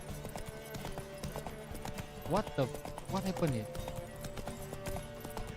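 Horse hooves clip-clopping in The Witcher 3: Wild Hunt, steady and moderately close beneath someone talking, with a couple of brief louder sweeping sounds in the middle.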